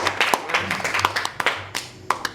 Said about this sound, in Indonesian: Kita berikan tepuk tangan dulu oleh pembicara kita hari ini.